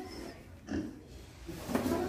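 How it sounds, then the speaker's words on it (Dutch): Low snuffling grunts from pigs, a couple of short bursts close by, with soft rustling in between. "Twee nieuwe varkens."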